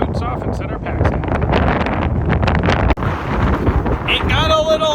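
Strong outdoor wind buffets the microphone on a Falklands hike, producing loud continuous rumbling gusts throughout, with a voice faintly under the noise.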